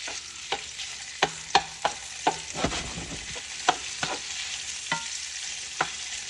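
Sweet Italian sausage browning in a pan, a constant close sizzle punctuated by repeated sharp scrapes and taps of the spatula, with a brief burst of louder spattering midway; no one speaks.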